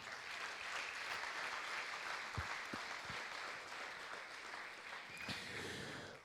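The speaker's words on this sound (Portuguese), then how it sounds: "Dê uma salva de palmas para o Senhor." A church congregation applauding, a steady, fairly faint wash of clapping that holds evenly throughout, with a few low thumps partway in.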